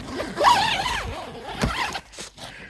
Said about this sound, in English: This is a weird kind of zipper here.